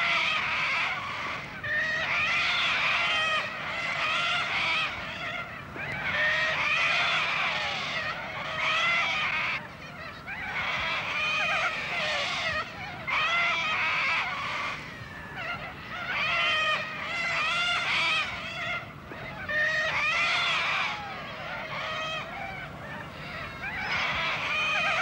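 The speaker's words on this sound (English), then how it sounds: "The gorge is a sanctuary for huge flocks of corellas, their raucous screeching amplified by the sheer walls." A huge flock of corellas screeches raucously in a sheer-walled gorge, making a dense, continuous din of harsh calls that rises and falls in waves for the whole stretch, with no voices.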